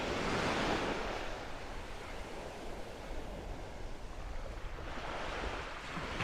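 Surf rolls and washes continuously onto Nacpan Beach in El Nido, a broad, steady roar of waves mixed with wind buffeting the microphone and no voices.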